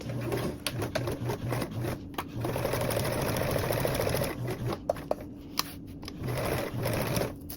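A sewing machine stitches a vinyl slip pocket onto a tote bag, with folded vinyl pieces used as a hump jumper at the start. The motor hums steadily in bursts with brief pauses between runs, close and clear.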